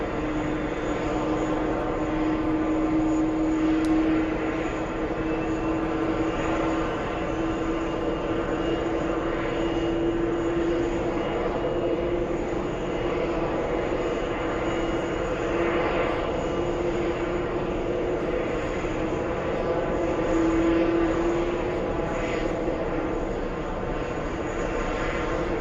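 A British Airways jet airliner at JFK airport gives off a continuous, loud engine roar with a steady whining tone that swells and fades slightly over the span.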